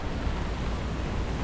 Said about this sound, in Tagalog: Grabe ang lakas ng hangin, pre.